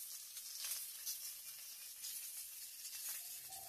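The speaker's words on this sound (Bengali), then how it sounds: "তো আমি কড়াতে তেল দিয়ে দিয়েছি।" Hot oil sizzles in a wok on the stove, a steady faint hiss with soft crackles throughout, no talking.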